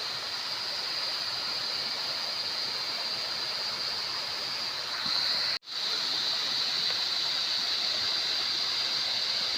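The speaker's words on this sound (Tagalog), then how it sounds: "Meron pa dito maliit na talon, no?" A small waterfall along the trail to Alitap Falls in Mauban, Quezon, producing a steady, close rushing hiss of falling water that continues evenly throughout, broken only by a split-second dropout, with no voices.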